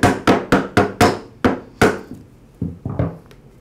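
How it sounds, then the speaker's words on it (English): A Ryobi string trimmer spool is tapped onto the shaft nut in sharp, close hard knocks, five in quick succession, then a few more spaced taps, slowing and fading near the end. "I'll tap the spool onto the nut."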